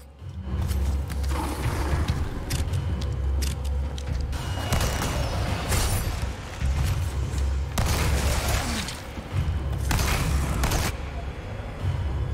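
Heavy shotgun blasts boom repeatedly in Resident Evil 4 Remake, several loud bursts spaced apart over a dense rumble of mechanical and combat noise.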